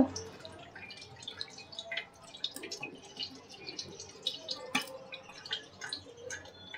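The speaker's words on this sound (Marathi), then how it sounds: "हाताने गाळून घ्यायचं। वस्त्रगाळ करायचा।" Wheat milk strained through cloth by hand drips in quick, irregular patters, soft and close, with occasional sharper drops over a quiet background.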